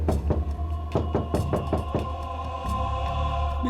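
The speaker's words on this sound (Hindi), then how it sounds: "दरवाजे के अंदर धक धक हो रहा है।" Several hollow knocks on a door in a Hindi horror drama, a quick cluster of raps followed by a few more spaced ones, heard over a steady low ambient drone.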